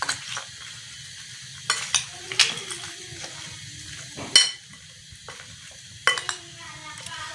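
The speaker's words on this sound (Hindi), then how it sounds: "चाट मसाला डाल दिया, अभी मिक्स कर लेते हैं।" A spoon scrapes and clinks against a bowl in irregular strokes while fried potato chaat is tossed with chaat masala. Faint crackling runs underneath the stirring.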